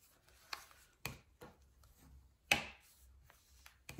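Firm creasing of folds in scrapbooking paper for a V-shaped album, a few sharp scraping and pressing strokes spaced apart in a quiet room.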